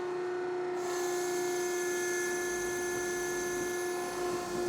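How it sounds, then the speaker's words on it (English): A crab pot puller runs aboard a cargo sailboat, giving a steady high-pitched motorized whine with a constant tonal hum, close and continuous throughout. "Got the crab puller."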